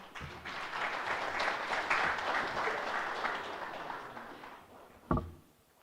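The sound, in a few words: audience applause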